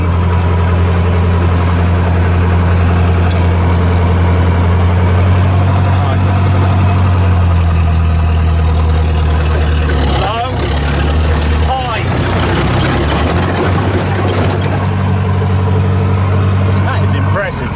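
A heavy diesel engine idles with a steady low rumble throughout, its pitch shifting briefly midway before settling back.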